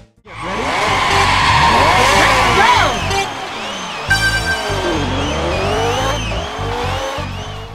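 Open-wheel Ferrari racing against other cars in a high-definition remake of a 1986 arcade racing game, with a loud, steady engine drone, rising and falling pitch sweeps as it passes rivals, and bursts of tire squeal.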